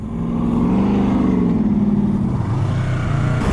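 A Chevrolet SS Camaro engine runs loud and close, a steady revving drone that rises and then settles lower over a few seconds, heard alone without voices.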